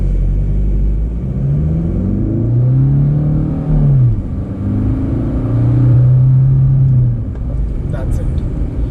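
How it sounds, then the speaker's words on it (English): A 2018 Suzuki Swift DZire ZDI+ automatic car accelerates on a straight road, its engine droning loudly from the cabin with rising and falling pitch as it winds up through gears. "Let's see the acceleration on this car."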